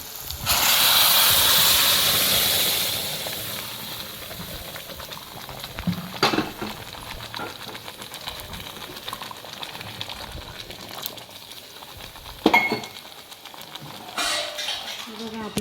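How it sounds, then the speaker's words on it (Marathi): Urad dal tipped into a hot tempering of masala gravy gives a loud burst of hissing sizzle that fades over a few seconds, followed by occasional pan and utensil clatters, close by. "आता आपण हे डाळ याच्यामध्ये घालून घेऊया"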